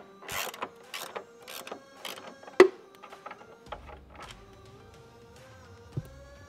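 A power tool working on the bolts of a Toyota Tacoma's lower door hinge gives off several short mechanical whirring and ratcheting bursts, with one louder clack partway through, then a quieter lingering low hum, all fairly close.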